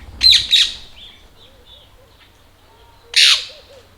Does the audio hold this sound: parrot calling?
yes